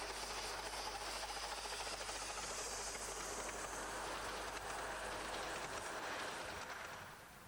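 A train rolls past at Dymchurch in South East England with a steady, hissing rumble, moderately distant, fading slightly at the end.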